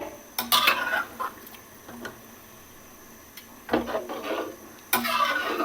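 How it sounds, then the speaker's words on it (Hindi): A metal spoon scrapes and clinks against a pot of chicken nihari thickened with flour, in short, irregular bursts, close and fairly soft, with quiet pauses between strokes. "आहिस्ता आहिस्ता इसमें चम्मच चलाते जाएं।"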